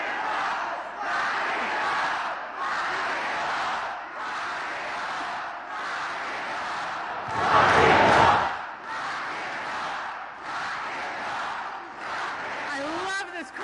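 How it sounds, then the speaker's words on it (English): Large crowd at a Biden campaign rally in Detroit, Michigan, sustained rhythmic chanting and cheering that swells in waves, with a louder roar near the middle, dense and continuous throughout. "I love this crowd."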